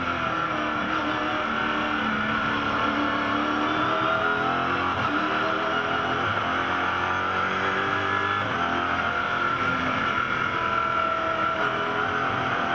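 Engine of a GT race car from the 2010 Australian GT Championship round at Bathurst, droning steadily with rising and falling pitch as the throttle is fed in gently, loud and continuous with no talk.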